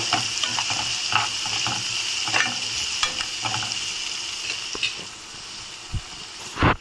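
Onions and curry leaves sizzle steadily in a pan for an egg potato curry, with scraping stirs and clinks of a spatula throughout and a couple of louder knocks near the end.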